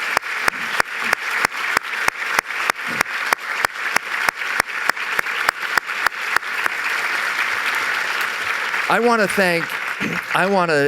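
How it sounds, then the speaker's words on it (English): Audience applause for a CFO and her team at the Harvard Medical School State of the School address: crisp, regular claps that swell into dense, sustained clapping, with a few whistles rising near the end. "I want to applaud her"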